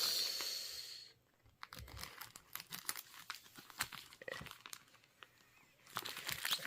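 Cross-stitch kit packaging from Riolis being cut open with scissors and unwrapped, giving close crinkling plastic and tearing sounds in irregular bursts, with a brief quiet stretch early on and no talk.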